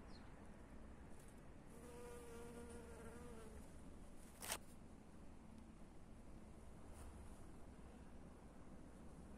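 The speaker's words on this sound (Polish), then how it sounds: "zbiera pyłek, ta pszczoła." A close honey bee buzzes steadily with a wavering drone while collecting pollen on Japanese anemone, hovering and moving against soft outdoor background noise, with a brief louder whoosh partway through.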